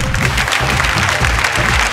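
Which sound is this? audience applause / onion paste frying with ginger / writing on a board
audience applause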